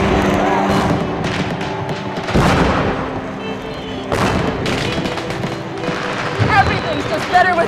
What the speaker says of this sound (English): Everything's just better with fireworks.